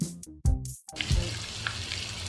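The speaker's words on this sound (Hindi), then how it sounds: "अब फिर इसको 2 से 3 मिनट फ्राई करेंगे जब तक दही का पानी खुश्क नहीं हो जाता।" Mutton fries with yogurt in a pot for biryani, a steady sizzle and bubbling after a few loud clanks of utensils at the start.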